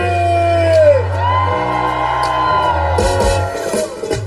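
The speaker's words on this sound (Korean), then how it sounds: "횡성 토마토 축제 여러분 마지막 함성 소리" A festival crowd at the Hoengseong Dunnae tomato festival cheers and shouts loudly over booming music, with a rising whoop and a sustained roar of many voices.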